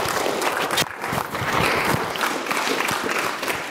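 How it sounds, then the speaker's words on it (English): An audience at a school prevention talk gives a round of applause, a steady wash of many hands clapping, loud and sustained with a few louder claps standing out. "Give her a round of applause as she makes her way up here real quick"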